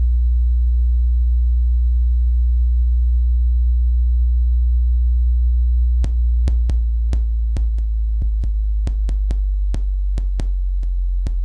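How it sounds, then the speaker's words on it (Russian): Steady 60 Hz low-frequency test tone from a generator played through Dali Callisto 6 speakers, a loud continuous hum, joined midway by a series of sharp irregular clicks. "Для этого я включу генератор низких частот, вот, например, 60 Гц"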